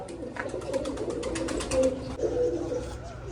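Pigeons coo in a new loft, several birds layering soft, throaty calls close by over a steady low background rumble, with a few louder bursts near the middle.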